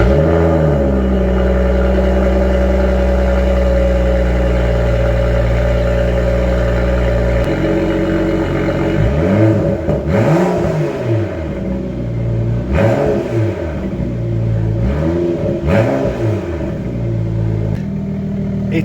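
A BMW 435i fitted with a quad M4 exhaust idles with a deep, steady burble, then blips its throttle in a run of sharp revs that rise and fall, loud and close.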